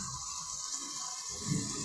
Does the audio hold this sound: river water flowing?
yes